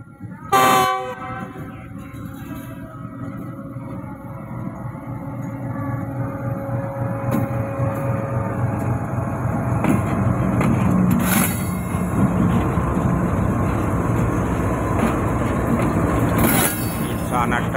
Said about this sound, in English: as the train is crossing through the signals